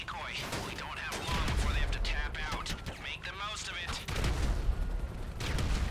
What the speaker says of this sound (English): Tembak helikopter tu.